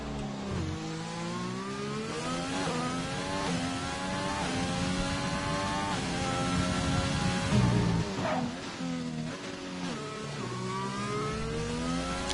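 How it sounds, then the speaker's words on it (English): A Formula 1 car in the F1 2020 video game accelerates out of corners at the Hungary circuit, its engine note climbing in pitch again and again through upshifts, loud and close with no talk over it. "You can really hear him doing a great job of getting clean acceleration out of the corners"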